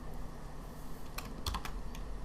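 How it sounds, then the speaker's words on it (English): Fingers type briefly on a computer keyboard, a few quiet clicks in a short burst against a faint background hum. "let me go ahead and type this in"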